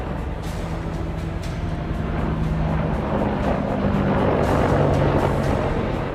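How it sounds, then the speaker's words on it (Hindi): Apache helicopter roaring overhead during an army exercise at the Pokhran field firing range in Rajasthan: a loud, steady broadband roar with a droning hum that swells slightly toward the end, with no voices. "आसमान में अपाची हेलीकॉप्टर की गर्जना"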